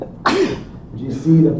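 A sneeze bursts out during a radiology lecture, a single sharp explosive burst near the mic, with a man's speech continuing around it.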